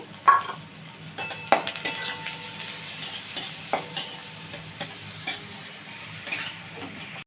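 Finely chopped onion sizzles and fries in a pan with garlic while a spoon stirs and scrapes, with occasional clinks of utensils against metal.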